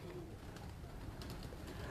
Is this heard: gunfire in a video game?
no